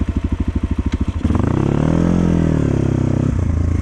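A KOVI MAX 300 motorcycle (2024) on a test ride: pulsing engine chugs at first, then a loud, steady rising and falling rev as it accelerates and pulls away, close and alone.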